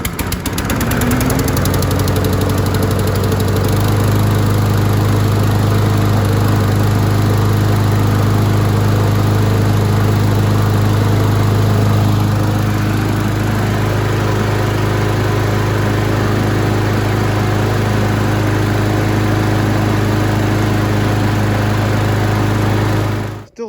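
A 2012 Yard Machines lawn mower engine, revived after more than six years left outside, runs loud and close with a steady buzzing rattle for over twenty seconds before abruptly cutting off at the end.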